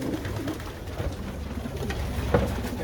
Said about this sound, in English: There we go, some cockbirds fighting.